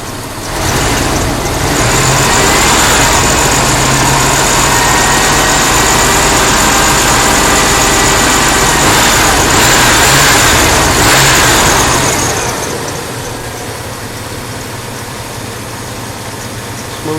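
A 1996 Chevy 1500 pickup engine idles up close, a steady loud rumble with a brief rise in revs midway before settling back to a smoother idle.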